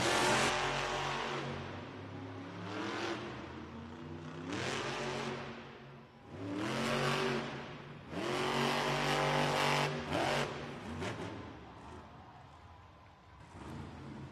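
A Monster Jam monster truck roars and revs at a racing run start in an indoor arena in Columbia, South Carolina, with loud engine surges rising and falling over about fourteen seconds, close and dominant, with crowd noise.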